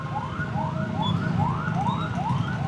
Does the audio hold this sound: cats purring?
no